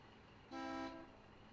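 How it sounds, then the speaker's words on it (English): A vehicle in the video game Foxhole gives one steady horn honk that lasts about half a second, loud and clear over quiet background noise. "Whenever you bump into somebody, you can just press the mouse key once and honk at them."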